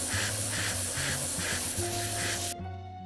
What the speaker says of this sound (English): I'm spraying a layer of brown over the top of the model